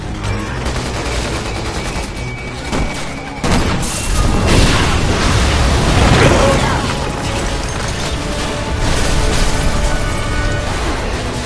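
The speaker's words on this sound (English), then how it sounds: "Shoot the gas! We can blow these things to kingdom come!" Explosions and heavy gunfire in the video game Resident Evil 6, with a gas blast erupting loud and close around the three-second mark, then sustained booming bursts and shots, and voices faintly underneath.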